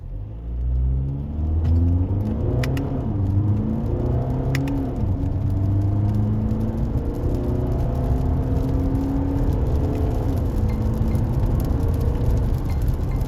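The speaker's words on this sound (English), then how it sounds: "let's also try the acceleration of the car" A 2025 Volkswagen Passat accelerates hard from inside the cabin, its engine note rising steadily in pitch through several gear changes over a constant low road rumble, loud and continuous with no talking.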